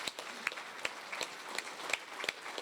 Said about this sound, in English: let's give a big round of applause for Regina Crowchild